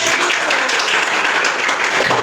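Students in a classroom clap together in a steady, dense burst of applause, loud and close, continuing without pause and with no talk over it.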